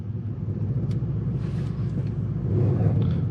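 A 604bhp Mercedes-AMG C63 S engine idles in Sport Plus mode with a deep, steady rumble, close by and fairly loud, swelling slightly toward the end.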